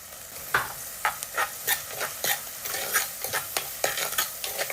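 Sliced garlic and ginger sautéing with shallots in a pan for a fish and spinach dish, a steady sizzle broken by repeated scraping stirs at a quick, uneven rhythm, close and fairly loud with no talking.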